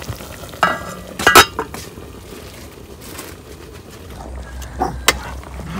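A pot of mixed mushroom curry bubbles and simmers, a soft low bubbling bed broken by a few sharp clinks and scraping stirs of a utensil against the pot.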